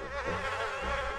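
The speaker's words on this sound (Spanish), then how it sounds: "Follón de moscas, ¿no?" A swarm of flies drones in The Isle, a dense, steady buzzing that stays close and continuous throughout.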